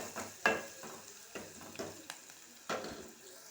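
Spoon stirring a frying vegetable curry with turmeric in oil, soft sizzle under repeated scraping strokes against the pan, close and fairly quiet, no voices.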